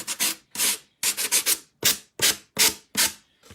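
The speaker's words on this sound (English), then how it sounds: "I'm just sanding the rest of the doily off." Rhythmic rasping strokes of a sanding block rubbing thin paper doily residue off a heart-shaped surface, close and brisk, repeating about twice per second.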